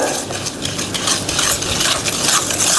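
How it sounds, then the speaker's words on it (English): Butter and sugar are creamed with a hand whisk in a bowl for brownie batter, giving a continuous close scraping and swishing with a quick, uneven stirring rhythm. "Cream the butter and sugar together. So we are mixing it with this whisker."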